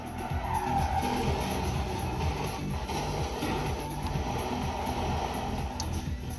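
Car drifting in a racing video game, a steady loud engine drone with continuous tire skid and squeal, no voices over it.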